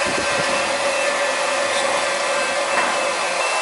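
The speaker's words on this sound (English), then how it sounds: "I got my pump here and I'm sucking out of these buckets through the pump" An oil pump drawing heating oil from buckets into a tank, a loud steady motorized whine and rushing hum running without a break, close by with no voices.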